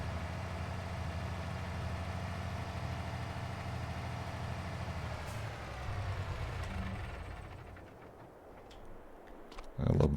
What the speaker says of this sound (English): I love those engine sounds.